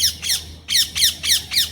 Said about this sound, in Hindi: अरे पैरेट है, पैरेट पैरेट